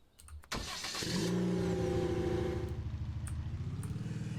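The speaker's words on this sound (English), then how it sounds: "that idle sounds like a dune buggy" A video game dune buggy engine cranks and catches, then settles into a rough, rumbling idle with a steady pulsing throb, close up and without voices.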